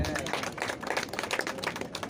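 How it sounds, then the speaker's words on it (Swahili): A church congregation clapping for Jesus at a service in Kenya; a dense, steady patter of many hands close by, with a few voices mixed in. "Pigieni Yesu makofi mazuri."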